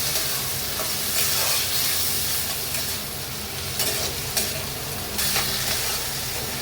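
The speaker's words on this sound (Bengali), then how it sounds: "টমেটো আর পেঁয়াজের মধ্যে কিছুটা চিংড়ি মাছ দিয়ে দিলাম, মিডিয়াম সাইজের চিংড়ি, এর মধ্যে ভেজে।" Medium-sized shrimp frying with tomato and onion in a pan, a loud, continuous close sizzle with occasional stirring scrapes and no talk.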